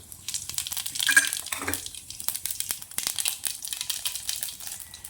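Cumin seeds drop into hot oil, giving a soft crackling sizzle with scattered pops and light scraping, fairly quiet and close with no talking.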